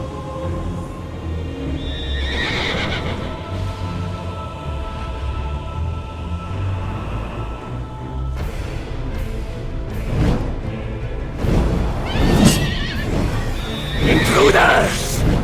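Whinnying and hoof clatter from a horse called Pegasus in Call of Duty Zombies, rising among layered game music and effects, with a louder burst of neighing near the end.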